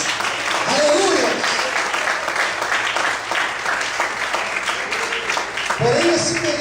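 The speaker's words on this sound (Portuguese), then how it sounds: "Quantos podem aplaudir e glorificar o Senhor por isso?" A church congregation claps together in steady, dense applause during a sermon, loud and continuous throughout, with faint voices and some tonal sounds rising underneath.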